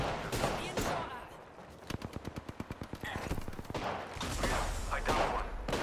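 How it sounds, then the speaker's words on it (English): Rapid gunfire in the video game Apex Legends, with quick bursts and a clear run of evenly spaced shots in the middle, loud and close, mixed with other game sounds. "Being shot at."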